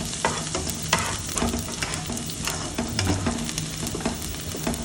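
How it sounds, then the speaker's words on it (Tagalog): Garlic sautés in a hot pan with steady, dense sizzling and frying crackle. Stirring scrapes run throughout at close range, with no talking. "magisa na tayo ng bawang"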